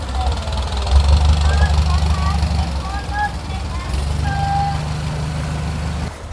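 A motorboat engine drones low and steady at a busy floating market near Bangkok, Thailand, rising and easing slightly, with faint voices and chatter mixed in over the running motor.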